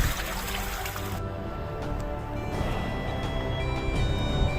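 Continuous rushing and trickling of the Warta River flowing, fairly close and steady, with a slight shift in tone partway through and no speech.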